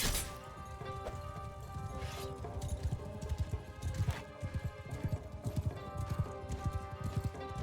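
Horse hooves clip-clopping at a gallop with a whinny in the samurai battle video game Shokuho, rhythmic thuds under faint battle noise, no talking.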